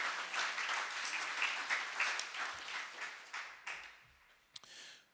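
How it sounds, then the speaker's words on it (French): A church congregation claps in praise during a Protestant service, a fairly distant, moderate round of applause that thins out and fades near the end, with a few last scattered claps. "on devrait se réjouir et applaudir le Seigneur"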